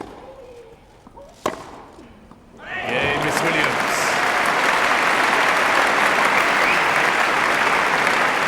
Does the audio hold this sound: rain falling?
no